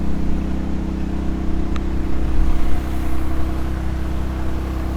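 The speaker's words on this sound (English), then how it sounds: "once we fire up the motor." Gas motor of a roofing pump running with a loud, steady low drone and droning harmonics close by, constant throughout with no talk.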